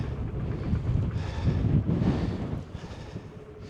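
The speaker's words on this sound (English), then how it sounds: "Be a bit windy here" Wind gusts across the open hilltop of South Barrule on the Isle of Man, a low, rough buffeting roar that rises and falls in surges against the microphone.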